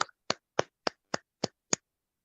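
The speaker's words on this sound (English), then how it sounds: "Please give them a big round of applause." Seven crisp hand claps at a steady, brisk pace, fairly close and evenly spaced, at a CheonBo families meeting, with no voices over them.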